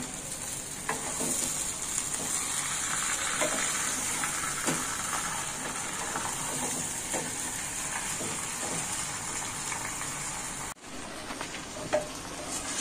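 Mango pickle sizzles in a pan as garlic paste is stirred in, a steady close frying hiss with soft scraping from the spoon. The sound runs almost unbroken, with only a brief cut near the end.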